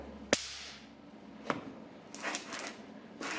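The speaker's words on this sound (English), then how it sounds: "when I'm walking next to my fume hood, I hear these nice little explosions coming from under my boots" Stray nitrogen triiodide crystals pop underfoot beside a lab fume hood as boots step on them: one sharp crack, then another about a second later, followed by a brief cluster of faint crackles and a last snap.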